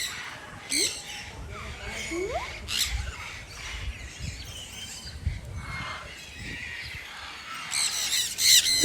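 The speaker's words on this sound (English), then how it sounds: "So many cute chattering lorries." Lorikeets chattering and squawking in an aviary in Daman, a busy mix of sharp squawks and chirps, fairly close, with other birds and faint background noise.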